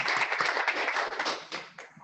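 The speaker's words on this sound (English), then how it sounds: "Can we give Jeanine one more big round of applause?" Audience at a talk applauding the speaker Jeanine, a brief burst of close, dense clapping that thins out toward the end.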